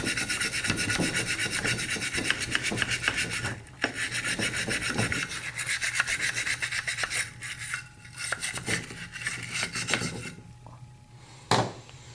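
A brush scrubs AR-15 rifle parts during cleaning, with continuous close rasping strokes in a steady back-and-forth rhythm, broken by a few brief pauses and one sharp knock near the end.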